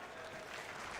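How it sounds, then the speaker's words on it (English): A brief burst of applause from a big arena crowd at a Call of Duty League esports championship in Las Vegas, an even wash of clapping heard from a distance. "Very courteous applause from the fans here in Vegas."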